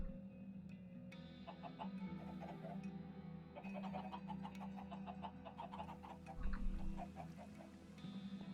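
Chickens cluck and chirp in modded Minecraft 1.12.2, with repeated short calls coming in small bursts over a steady low hum.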